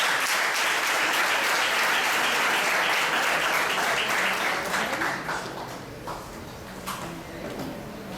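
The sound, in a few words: church congregation applause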